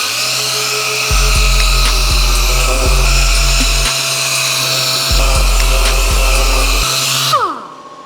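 A power sander sands a crash-damaged Peugeot 106 GTI body, whining steadily in two long bursts with a brief pause between, loud and close, then cutting off abruptly near the end.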